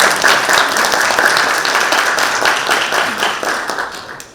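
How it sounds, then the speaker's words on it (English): An audience at an international peace forum in Jeju applauds, dense sustained clapping from a hall crowd that slowly fades out after a few seconds. "Can you give a big applause to Mr. Mubarak Azlan Al-Kwari?"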